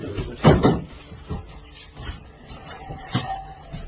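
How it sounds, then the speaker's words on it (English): A door is pushed open with a loud scraping creak, followed by quieter rubbing and a second brief scrape, close and without speech. "They moved slowly and opened the door."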